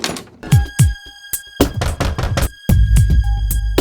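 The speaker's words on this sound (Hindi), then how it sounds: "दरवाजा खटखटाओ, दरवाजा खटखटाओ" Several sharp knocks on a door land in quick uneven bursts, loud and close, with a steady tonal background running underneath.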